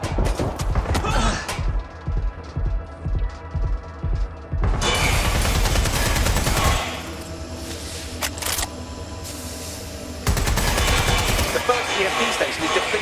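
Loud, dense bursts of automatic gunfire and explosive crashes from the video game Watch Dogs Legion, sustained volleys broken by brief pauses, over a busy game soundtrack.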